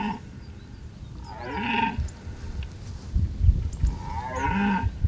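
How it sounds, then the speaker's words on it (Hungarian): Red deer stags bellow during the autumn rut in a valley, four young bulls competing for hinds, giving two long, deep, moaning roars a few seconds apart over faint rustling background. "Lent a völgyben négy fiatal bika verseng a tehenekért, ezzel a hanggal figyelmeztetik egymást."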